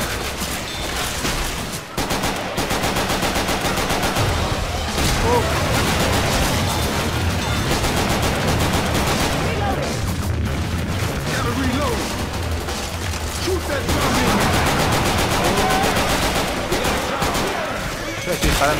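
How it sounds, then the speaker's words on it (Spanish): Dense, continuous automatic gunfire and explosions from the Left 4 Dead 2 City 17 campaign, loud and sustained throughout with only a brief pause near the start, bursts overlapping in a constant barrage. "Yo estoy disparando a todos, a los míos."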